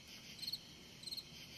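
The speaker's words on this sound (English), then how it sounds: "the crickets are cricketing" Crickets chirp at night in swampy, spongy wet ground: two short, faint pulsed trills separated by a pause, high and thin over a quiet background.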